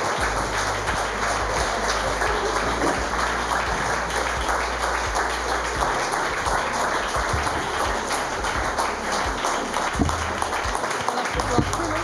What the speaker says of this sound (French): c'est de les faire revenir ici sous vos applaudissements